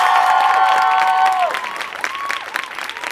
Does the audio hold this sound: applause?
yes